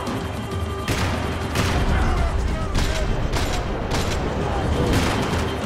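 Gunfire in the Max Payne 3 video game: repeated loud shots and bursts crack over a dense, rumbling bed of action noise, with several sharp blasts spaced through the stretch while a voice talks now and then.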